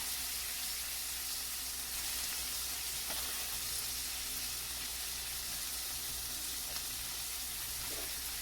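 Boneless pork chops frying in a pan, a quiet, steady sizzle that runs evenly throughout, with a faint clink or two and no voice.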